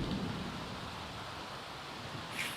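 Steady, dense rain hiss with a low storm rumble in The Sims 4, a continuous wash of noise with no voices and a faint high chime near the end.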